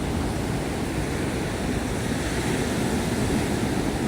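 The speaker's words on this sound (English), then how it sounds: "Listen to those sounds of the ocean" Ocean surf along the Gulf shore at Anna Maria Island beach at sunset, a steady broadband wash of waves mixed with breezy wind rumble, continuous and fairly loud with no voices.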